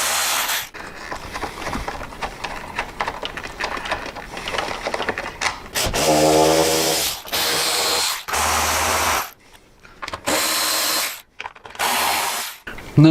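A power tool whirs in short bursts while backing out bolts from the inner fairing of a Harley-Davidson Street Glide, with clicks and handling rattles between several separated runs; no voices.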